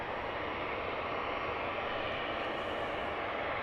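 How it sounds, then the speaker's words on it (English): A DHL cargo jet on the runway at Luton Airport runs its thrust reversers after landing on a foggy day, giving a steady, loud broadband engine roar that holds unbroken throughout. "Awesome reverser action from the DHL."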